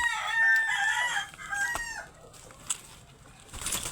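Chickens cluck and squawk close by, busy and continuous at first, then thinning out into scattered calls with a brief flutter of activity.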